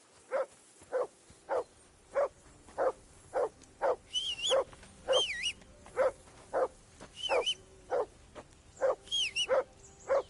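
A dog barks repeatedly in the medieval open-world game Kingdom Come Deliverance 2, steady loud barks roughly twice a second with occasional higher yelps and whines, close by with no talk.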